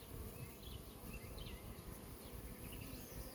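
Honey bees buzz softly and continuously close by, a faint steady drone with occasional individual bees passing near.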